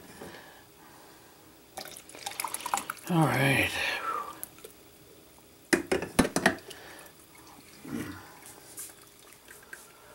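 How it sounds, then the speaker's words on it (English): Water runs from a tap at a low, steady level, with splashing and clinking bursts on top and someone speaking a few words. "The reason the water's always running out here is I'm trying to just run it for a few minutes."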